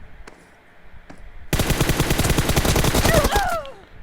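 Rapid automatic gunfire bursts out loudly in a team shooter video game after a quiet opening with a couple of isolated shots, ending with a few short ricochet-like whines.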